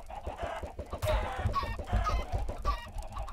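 Chickens clucking in the video game Minecraft, a steady run of short repeated clucks and squawks close by, with game sounds layered underneath and no talking.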